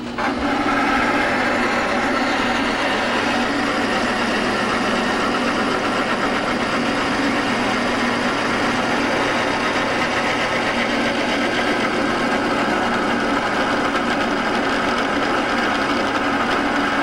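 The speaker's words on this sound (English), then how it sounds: "This little old-timey lathe" A small old-timey lathe runs continuously, a steady whirring mechanical hum with a fine rubbing texture, close and even from start to finish with no talk.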